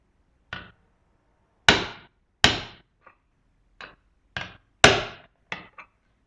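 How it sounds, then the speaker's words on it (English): A hammer strikes a nail into a thin metal lid in a series of sharp, ringing taps, irregularly spaced, close and fairly loud with silence between. "we simply get the hammer, we give it a light tap"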